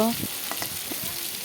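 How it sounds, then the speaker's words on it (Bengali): Potato pieces fry in hot oil with a soft, steady sizzle and a few light spatula taps, heard briefly and fairly quietly. "দেখো আলুগুলোকে লাল করে ভাজা হয়ে গেল"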